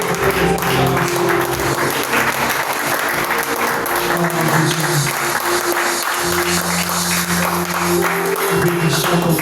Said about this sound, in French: Nous voulons te célébrer avec nos acclamations.